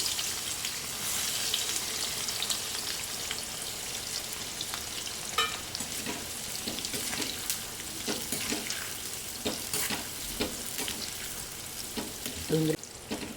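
Onions frying in a pan until brown, with continuous crackling sizzle and scattered sharp clicks and scrapes of stirring, close and moderately loud.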